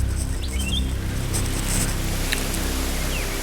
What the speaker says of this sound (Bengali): হাওয়া দিচ্ছে, পাখির আওয়াজ